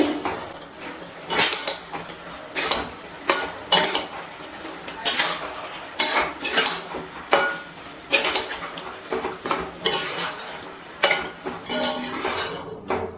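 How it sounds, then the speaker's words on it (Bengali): Ginger garlic paste is stirred into chicken in a pot for kadai chicken, a spoon repeatedly scraping and clanking against the metal in uneven rhythmic bursts, close and fairly loud. "আদা রসুন বাটা ভালো করে মাংসের সাথে নাড়াচাড়া করে মিশিয়ে নিচ্ছি।"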